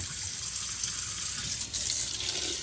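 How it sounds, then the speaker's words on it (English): Hot water runs steadily from a kitchen tap into the sink, a continuous close hiss and splash with no talking. "turn on your hot water"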